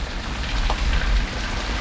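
Steady rain falling and beginning to ease after a heavy downpour, a dense even patter close by that holds at a constant level throughout, with no voices.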